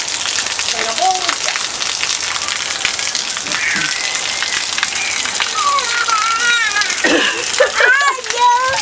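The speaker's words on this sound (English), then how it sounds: "It's raining. It's raining." Steady rain falls loud and close, a constant hiss filling the whole stretch, while young children talk and chatter over it.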